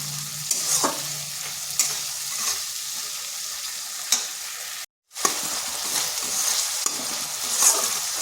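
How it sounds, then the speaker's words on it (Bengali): Tomato and spices frying in a pan for a vegetarian pumpkin curry, a steady close sizzle broken by scraping spatula strokes and a brief silent gap midway, then more sizzling and stirring. "টমেটোটা গলে গেছে আর মশলাটা খুব ভালোভাবে ভাজা হয়ে গেছে"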